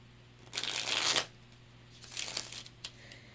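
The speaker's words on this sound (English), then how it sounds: "Let me get these cards shuffled up really good." A deck of tarot cards is shuffled close up in two quick riffling bursts with a short pause between, crisp and papery against a quiet room.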